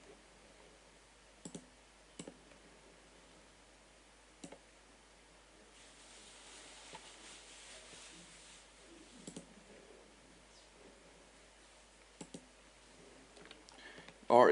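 Computer mouse clicks while dictation files are dragged between folders in Philips SpeechExec software: scattered sharp clicks come at irregular intervals over a quiet background, close to the microphone.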